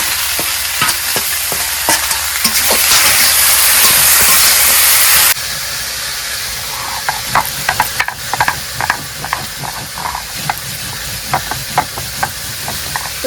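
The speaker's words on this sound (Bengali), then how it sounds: "ঢেপের নালটা ভাজা হয়ে গেছে" Water lily stalks frying with fish in a pan for a simple homestyle curry, a loud steady sizzle and hiss with repeated stirring scrapes, the sizzle dropping partway through and clinks of stirring continuing alone.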